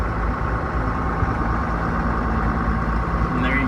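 A John Deere 7400 tractor engine runs at a steady low rumble close by, continuous and even throughout.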